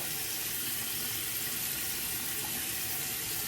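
Tap water runs steadily into a bathroom sink as a face is wetted, a continuous close hiss with no break from start to finish.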